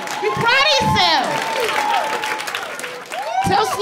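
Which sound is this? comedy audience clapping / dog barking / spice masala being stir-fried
comedy audience clapping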